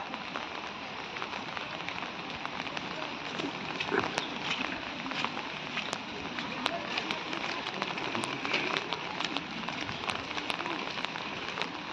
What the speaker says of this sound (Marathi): पाऊस आता थोडं कमी झाला पाऊस दिवसभर.